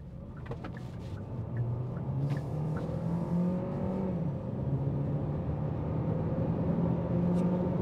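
A 2024 Hyundai Sonata Hybrid Limited in sport mode pulls away onto a fast road, its engine note droning steadily and rising in pitch under moderate cabin rumble, with no talking.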